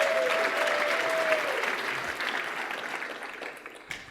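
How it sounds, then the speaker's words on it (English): Audience applause at a programming conference talk on type systems, a steady dense wash of many hands clapping, with a brief whistle-like tone early on, fading slightly toward the end. "please give me a round of applause whenever I drink water"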